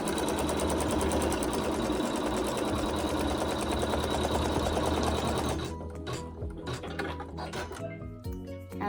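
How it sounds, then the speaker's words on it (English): Embroidery machine tacking fabric to a quilt block with water-soluble thread, a steady rapid stitching hum running loud and close, then thinning into stop-start bursts of stitching near the end. "we are going to use water-soluble thread for this step, and we're just going to tack this fabric to our block"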